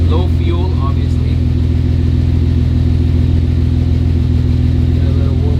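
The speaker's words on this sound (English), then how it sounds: "But not before I rev it a little bit." A Porsche 935 race car engine idles and revs, a loud, close, pulsing low rumble held steady for several seconds, with someone talking over it.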